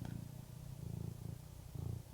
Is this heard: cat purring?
yes